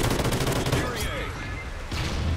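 Rapid automatic gunfire in Call of Duty: Ghosts on PS3, loud close bursts with a short lull in the middle before shooting picks up again, with faint talk underneath.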